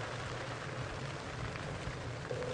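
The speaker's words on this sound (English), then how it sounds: "What is this sounding like from the rain's point of view?" Steady rain falling during a canceled evening safari drive at Djuma and Arathusa, a continuous broadband hiss of drops with no breaks, moderately faint and unaccompanied by voices.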